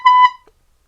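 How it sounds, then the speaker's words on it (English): A single short electronic beep from a toy, one steady high-pitched tone like a fire alarm, loud and close, cutting off abruptly after about a quarter second. "Sounds like a fire alarm, actually."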